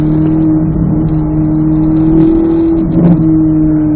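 A race car on a track engine pulls steadily under throttle from inside the cockpit, a loud sustained droning hum with a slight rise and small surge near the end.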